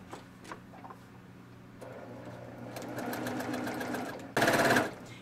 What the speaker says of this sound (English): Start stitching back here on this other triangle.